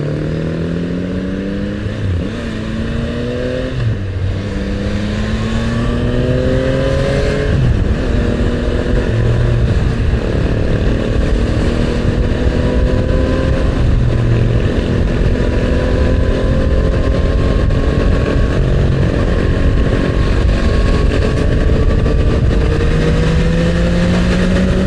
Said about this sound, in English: there's a lot of bikes on the road.